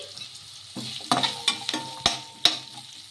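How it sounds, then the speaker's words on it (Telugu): Carrot and capsicum pieces stirred in a frying pan, a steady oil sizzle with several sharp scrapes and clanks of the spatula against the pan, close and clear, no voices. "మీరు ఇలా వేసుకొని ఒకసారి బాగా కలిపేసుకుందాము"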